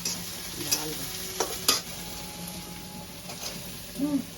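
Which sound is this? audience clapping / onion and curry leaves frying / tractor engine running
onion and curry leaves frying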